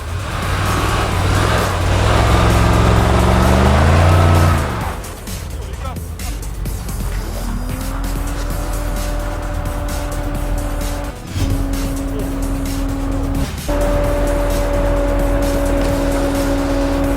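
A Porsche Cayenne SUV revs loudly with tires spinning, the engine note climbing and dropping before settling into a steady high whine with squealing rubber, while people talk nearby.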